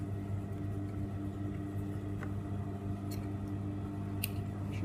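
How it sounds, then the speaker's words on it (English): Metal snips cut through facing trim in a few sharp, separate clicks spaced about a second apart, sounding over a constant low mechanical hum in the background. "Using my snips"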